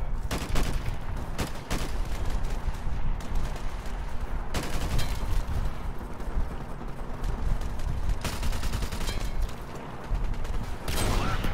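Dense, near-continuous gunfire and explosions from Call of Duty Modern Warfare Remastered, with loud cracking shots repeating throughout and heavy rumbling underneath.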